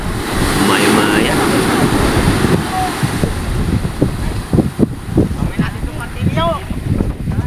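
Strong wind and surf along the seashore at Dinggalan, a steady loud roar of gusts and breaking waves buffeting the microphone throughout, with faint voices mixed in.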